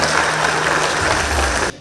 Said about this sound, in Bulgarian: Отново аплодисменти за нашия призьор в категория момичета и момчета